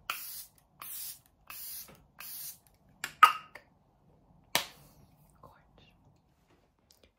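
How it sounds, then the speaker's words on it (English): Several short hissing bursts of Airbrush Flawless makeup setting spray come in a row, evenly spaced, followed by a couple of quicker sprays and faint handling noises in a quiet room. "using my Airbrush Flawless setting spray"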